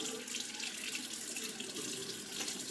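Kansa face massage tools rinsed under a running tap in a sink, giving a steady close stream of water splashing throughout with no voices.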